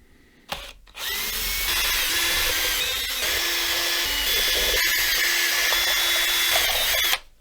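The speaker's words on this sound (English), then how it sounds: "we can just start pulling out these screws" A power drill backs screws out of a Stratocaster guitar body, whirring steadily and loud at close range for about six seconds after a brief start.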